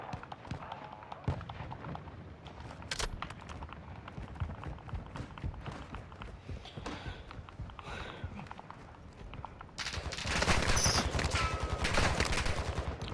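Steady gunfire in a Call of Duty MW2 match on PS5, with continuous crackling shots and bursts at moderate loudness that swell louder near the end, with faint talk in places.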